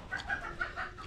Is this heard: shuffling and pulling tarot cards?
no